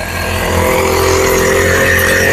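An Indian Agro automatic soybean weeding machine revving its engine in a field near Pune, a loud, steady motor drone that climbs slightly in pitch and holds close by, with no voices over it.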